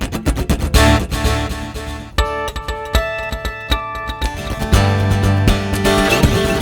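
Fingerpicked acoustic guitar run through two delay echoes set at different tempos, its notes repeating in a dense, shimmering cascade of overlapping patterns, steady and fairly loud throughout with no talking.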